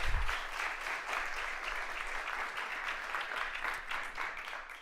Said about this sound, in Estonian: meie teeme talle aga veel ühe aplausi